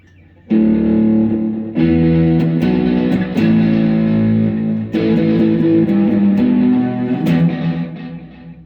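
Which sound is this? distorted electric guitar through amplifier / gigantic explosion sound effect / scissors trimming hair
distorted electric guitar through amplifier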